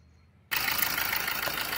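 Diesel engine of a 2016 Maruti Suzuki Ertiga VDI SHVS running, starting abruptly after a quiet half-second and then a loud, steady, broadband rumble and hiss held close to the open bay.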